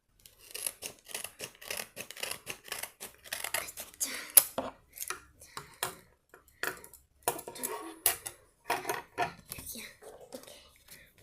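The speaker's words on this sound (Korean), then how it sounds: "일단 한번 잘라볼게요 가위는 조심하세요" Scissors snipping through paper while cutting out a printed animal random-box craft, with a quick irregular run of crisp close cuts and soft crinkles, and quiet speech in between.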